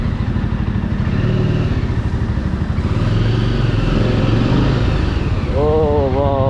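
A Jawa 42 motorcycle engine thrums steadily and loudly while the bike is ridden, a close, even rumble with some clatter and a short tonal whine near the end.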